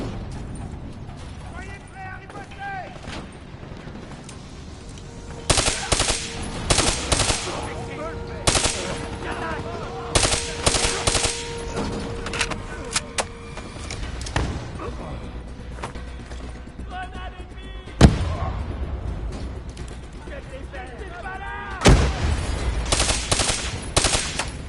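Gunfire in Call of Duty Black Ops III as shots hit cubes, loud bursts and single cracks repeating over a steady game background, with a voice speaking partway through.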